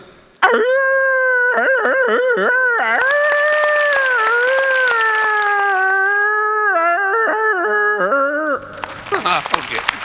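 A single voice imitates a jackal howl: a long, wavering, rising and falling wail sustained for several seconds, loud and close.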